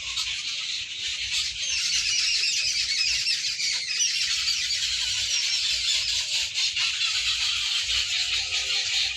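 A dense flock of birds squawks and chatters continuously at steady loudness, many shrill overlapping calls with no talking.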